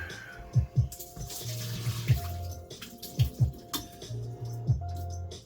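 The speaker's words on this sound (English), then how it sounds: "Okay, drain the noodle. Drain, drain, drain." Instant yakisoba noodles drain in a kitchen sink, with water gurgling and splashing in irregular bursts, a tap-like stream running intermittently underneath, close and without talk.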